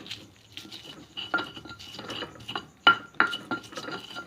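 Shrimp paste and bird's eye chilies pounded in a mortar, giving repeated irregular knocks and scraping grinds of the pestle, with two sharper close impacts near the end and no talk.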